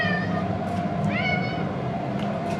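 A cat meows indoors in several rising calls, clear and close over a steady background hum, while its owner plays fetch with a length of wire.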